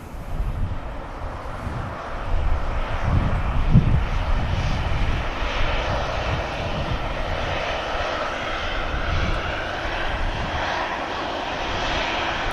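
A Ryanair airliner's engines roar steadily at Manchester Airport, a loud, sustained broadband rumble that swells slightly midway and holds on without a break.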